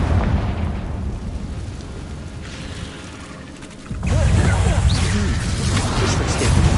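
Spell blasts from Bombarda and Confringo in Hogwarts Legacy erupt over game music, a softer rumbling stretch giving way to a louder burst of impacts and crackling effects, with voices speaking during the combat.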